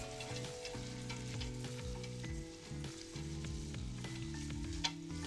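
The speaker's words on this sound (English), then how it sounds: "Gonna give that a nice mix." Vegetables sizzle in oil while being stirred and tossed in a pan, a constant crackling fry with frequent scraping and clattering stir strokes, fairly quiet, no talk.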